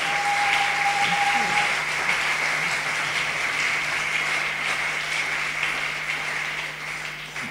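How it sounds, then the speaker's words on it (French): A church congregation applauding loudly during a Sunday sermon, a dense continuous wash of clapping that holds steady throughout, with a faint voice briefly beneath it. "Acclamons très fort le Seigneur."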